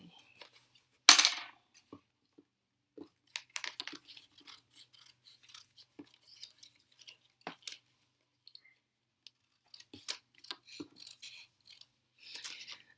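Small orange scissors handled on a crafting table during collage work, giving a sharp metallic clatter near the start followed by scattered light clicks and snips, close and quiet, with no talking.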